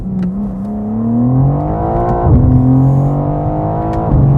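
A 2023 BMW M4 CSL with a twin-turbo inline-six pulls hard from inside the cabin, its engine note rising steadily through the revs, dipping briefly at each gear change, then climbing again.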